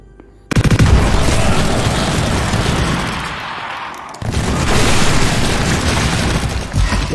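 Dual-wielded automatic shotguns in Project Warlock 2 fire in a dense, loud, relentless barrage of booming blasts, with a short pause partway through before the heavy volley resumes.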